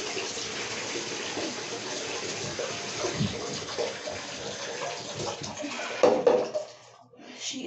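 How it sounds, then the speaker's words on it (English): Water runs and splashes in a bathtub during a child's bath, a steady close hiss with a few knocks and a louder gurgling splash near the end before it suddenly quiets. "Just gotta let the water drain out now."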